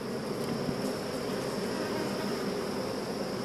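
Honeybees hum steadily at an open hive, with many foragers returned and gathered on top, a dense continuous buzz close by with no talking.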